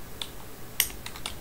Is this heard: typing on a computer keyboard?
yes